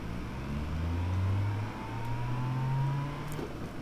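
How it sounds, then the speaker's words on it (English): A car engine idles at low pitch, then revs and accelerates with a rising whine, heard from inside the vehicle on a lap of the Nordschleife, loud and steady throughout with no talking. "So I'm gonna start this vehicle."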